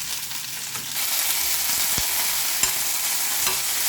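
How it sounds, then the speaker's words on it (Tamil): Curry leaves, country coriander and home-grown mint sauté in a pan, a steady bright sizzle that swells after the first second, with a few sharp clicks of a stirring spoon. "கொஞ்சம் கருவேப்பிலை, கொஞ்சம் நாட்டு கொத்தமல்லி, கொஞ்சம் நம்ம செடியில் இருந்த புதினா, நாட்டு புதினா, இதெல்லாம் வதக்கிடலாம்"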